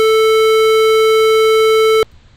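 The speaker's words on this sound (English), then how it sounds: "So that's the square wave" A steady, buzzy synthesized square-wave tone holds at one pitch for about two seconds, then cuts off abruptly into near silence.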